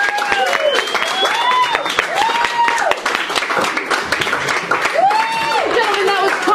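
Audience applause fills a poetry slam venue, steady clapping and crowd noise running throughout while whoops and a voice rise above it.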